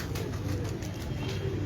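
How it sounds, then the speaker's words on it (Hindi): Pigeons coo softly and continuously, a low murmuring burble close by with no talking. "ये डब वाले कबूतर हैं जी।"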